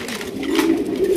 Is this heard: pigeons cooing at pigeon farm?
yes